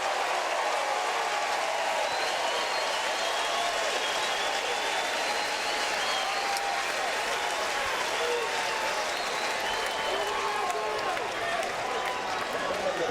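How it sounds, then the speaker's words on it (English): A baseball crowd at a Florida State game keeps up loud, steady cheering and applause throughout, with a commentator talking over the noise. "Listen to this crowd here."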